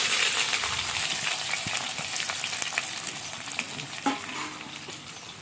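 Chopped onions fry in a pan with a dense, steady sizzle and intermittent light scraping from a stirring spoon, plus a brief metallic tap near the end. It is close, with no speech.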